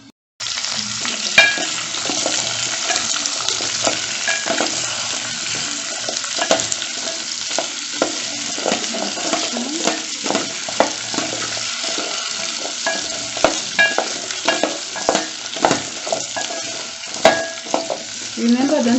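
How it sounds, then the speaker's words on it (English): Butternut squash frying with ginger-garlic paste in a pan for soup, a loud close sizzle running throughout with frequent scraping stirs and clatters from a utensil, no talk. "So now let's add in our butternut squash."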